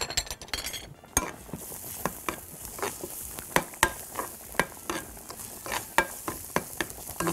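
Potatoes fry in a tray with ghee and oil, a light sizzle under repeated clinks and scrapes of a utensil stirring at an uneven rhythm.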